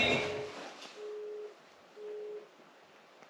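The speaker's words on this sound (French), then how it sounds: "il y a le téléphone qui sonne" A phone rings with three evenly spaced steady electronic tones, faint and fairly distant, in a quiet room after a short burst of noise.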